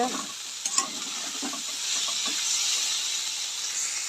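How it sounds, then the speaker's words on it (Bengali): Bitter gourd and potato pieces fry in a pan with a steady, close hiss and sizzle, broken early on by a few light clinks of stirring. "আলু ভাজা হচ্ছে"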